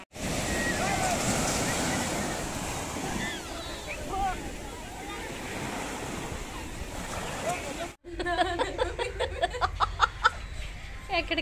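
Sea waves at a beach in Nagapattinam wash in as a steady, fairly loud surf roar mixed with wind buffeting the microphone, then the scene cuts to a softer, brief stretch of background noise.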